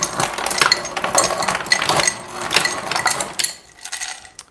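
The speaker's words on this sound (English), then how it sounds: "Put some ice." Ice cubes tumbling into an ordinary drinking cup in a home kitchen while espresso is made nearby, a quick run of hard clinks and rattles for several seconds that then thins out, close and fairly loud.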